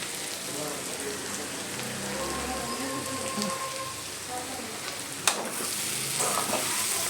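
Ivy gourd (dondakaya) pieces fry in a pan with a steady, close sizzle like rain on a surface, with a few scrapes and one sharp clink near the end.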